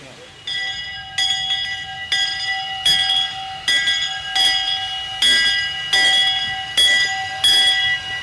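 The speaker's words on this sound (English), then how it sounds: "The train slows down as it approaches the Alna Center station to pick up milk." A train's bell clangs steadily about once a second, loud and nearby, over a faint low rumble as the train slows approaching Alna Center station on the WW&F line.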